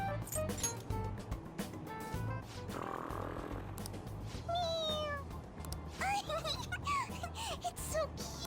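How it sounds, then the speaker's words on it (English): Toy cat in the video game Persona 5 Royal gives several short, bright meows when pressed, chirpy cries coming in clusters over a low game music bed. "It meows when you press on its head."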